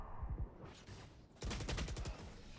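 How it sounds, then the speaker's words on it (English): A fast Valorant gunfight during a collegiate esports match, with rapid bursts of automatic gunfire in two dense volleys separated by a short lull, loud and continuous and with no voices. "he just could not get that gunfight as he gets beat by the Omen there"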